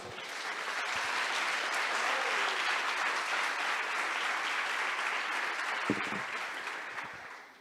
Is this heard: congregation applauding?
yes